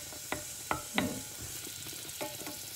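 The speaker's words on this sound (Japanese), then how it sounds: "バターとラードをお鍋に入れて今溶かしてます" Butter and lard melt with light sizzling in a pot, with a few sharp clinks of a utensil against metal, fairly close, no talking.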